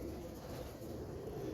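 Low, soft pigeon cooing murmurs close by under a steady background hum, continuous and muffled throughout the short stretch.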